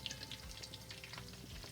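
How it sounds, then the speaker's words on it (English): Bammy frying in oil in a non-stick pot, a steady close sizzle with light crackles and a soft stirring scrape throughout. "I like frying in this pot."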